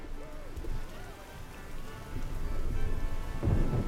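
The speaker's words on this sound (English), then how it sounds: "Storm coming in fast." Storm at sea around a ship, with steady heavy rain and a low rumble of thunder building toward the end, all at moderate loudness and without clear speech.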